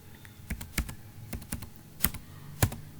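Fingers type a scratch card number on a computer keyboard, a quiet run of separate clicking keystrokes at an uneven pace, with a few sharper, louder presses standing out.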